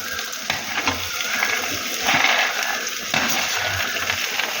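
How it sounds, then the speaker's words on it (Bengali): Previously fried vegetables go into a pan of spiced Bengali shukto, giving a steady broad sizzle that holds at an even level throughout with a few soft stirring scrapes. "একে একে ভেজে রাখা সব সবজিগুলো দিয়ে দেব"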